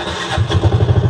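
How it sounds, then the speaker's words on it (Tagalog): A Piaggio Ape City 230cc three-wheeler engine cranks and catches, settling into a fast, throbbing idle with a steady low pulse, close by. "I-clutch natin, tapos i-start na natin para umadala siya."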